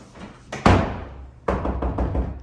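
A bathroom stall door in an extravagant Honda dealership restroom is swung and bumps shut twice, each a solid thud followed by ringing in a reverberant room, with no talking.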